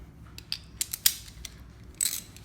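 A socket ratchet working on fuel injector parts of a BMW 335i gives short mechanical clicks and ratcheting, a few sharp metallic snaps spread over a couple of seconds, close up.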